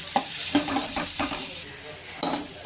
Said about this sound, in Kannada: ಈರುಳ್ಳಿ ಹಾಕಿ ಚೆನ್ನಾಗಿ ಫ್ರೈ ಮಾಡಿ.